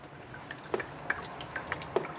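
Liquid dripping and trickling from the bottom of a jet ski during winterizing, a few soft irregular drips and splashes over a steady low background hiss, fairly quiet and close.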